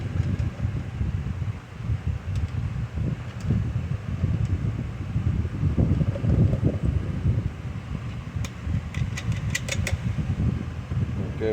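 A Stihl TS 420 concrete saw engine runs steadily while warming up, a continuous rough two-stroke drone heard close with some wind noise and no talk.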